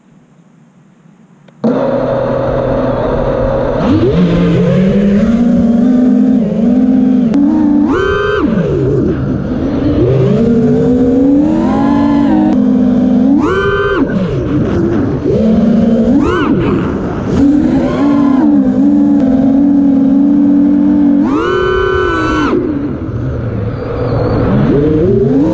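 FPV drone on a quick test flight in windy conditions, its motors a loud, continuous buzzing whine that rises and falls in pitch with throttle changes, starting abruptly after a short quiet moment.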